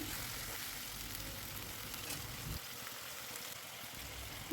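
Small pieces of meat cooking with ground nut paste and spices in a home kitchen pan give a low, steady sizzle that quiets partway through, ending in a brief louder clatter.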